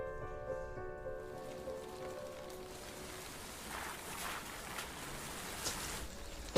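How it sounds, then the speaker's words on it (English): Heavy rain patters steadily with gusting wind, forming a dense continuous wash, and a faint tonal hum fades out early. "we've now got this howling wind and tons of rain"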